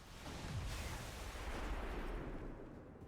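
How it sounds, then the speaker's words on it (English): A big explosion in XCOM 2, a broad rumbling blast that swells and holds for a few seconds before fading, with no speech. "Nice big explosion there."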